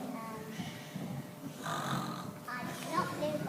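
A child makes snoring noises during a Year 1 and 2 school Christmas production. The faint, rough snorts come in a loose rhythm, with children's voices and a hall atmosphere around them.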